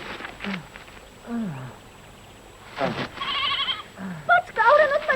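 A small goat bleats repeatedly as it is tied with rope and hauled upward, its wavering cries close and clear, mixed with shouted voices in an animated scene.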